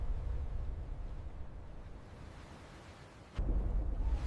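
Thunder from a lightning storm rolls as a low, sustained rumble, fading slightly before a sudden sharp crack and a heavier, louder boom in the final second.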